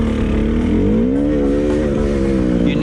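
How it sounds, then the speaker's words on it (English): An enduro motorcycle's engine holds on throttle while climbing an off-camber slope, a loud, steady buzzing drone with slight pitch wavering, close by and continuous. "you can see the bike ahead losing grip if too much throttle is used"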